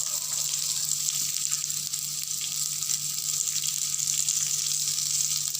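Steady sizzling of raw mango pieces sautéing in hot oil, a continuous crackling hiss close by with no talking.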